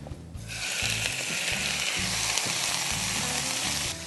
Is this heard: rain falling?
no